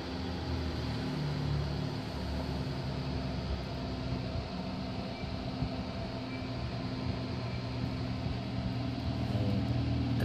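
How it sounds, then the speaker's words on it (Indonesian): Steady broadband whoosh of a power amplifier's cooling fan running loudly, a constant close hum with no voices and no change throughout. "Kipasnya AC lumayan kencang."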